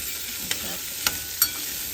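A spoon stirs a vegetable dish in a sizzling pan, making three sharp metallic scrapes and clinks over a steady soft frying hiss, close and without talk.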